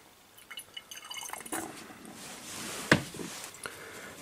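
Water trickles and drips from a wash bottle into a distillate flask in a chemistry lab during a wine distillation, soft and close, with one sharp glassy drip or clink partway through and faint background noise.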